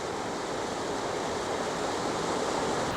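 Water pours steadily from the last of the Seven Tubs rock pools into a creek in the Wilkes-Barre, Pennsylvania nature area, a constant broad rushing close by with no voices.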